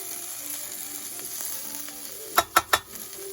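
Ribeye, onion and provolone sizzle softly on a Ninja Foodi Pro XL grill, a faint continuous crackle capped by three sharp scraping clacks of a utensil near the end.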